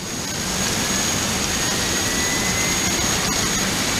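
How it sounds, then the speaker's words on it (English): Number one jet engine of an airliner in FSX spools up during start, its loud roar and high whine swelling in the first half second and then holding steady and close. "It's spooling up."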